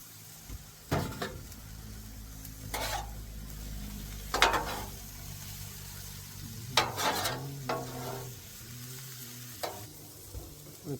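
Mushrooms and butter sizzling on a Blackstone griddle, a steady close frying hiss with several sharp scraping and stirring bursts spread across it.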